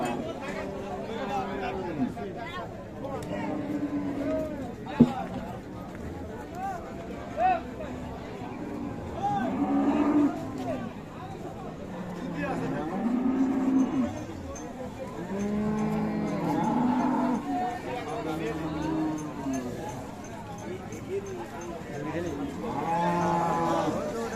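Friesian cattle with calves at Raniganj haat livestock market in Dinajpur, several drawn-out moos at varying distances repeating throughout amid low crowd chatter and people talking nearby.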